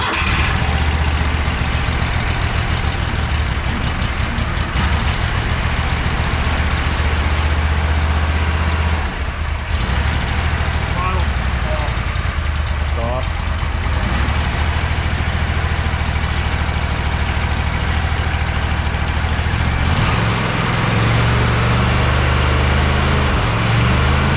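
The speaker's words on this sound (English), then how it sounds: "New carburetor too, so we got to do some cranking to get the fuel." A Walker mower engine fitted with a new carburetor cranks and catches, running loud and steady with rough, knocking idle and a few pauses and surges as it settles.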